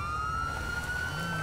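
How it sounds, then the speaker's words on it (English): A police car siren in the GTA Online video game wails as one steady, loud tone over a low engine and traffic rumble, with no talk. "That has a really, really terrible siren on it."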